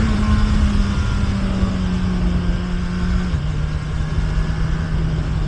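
Kawasaki Ninja 1100SX SE motorcycle engine running on a UK road, a loud, steady drone with the pitch dropping slightly partway through, no one talking.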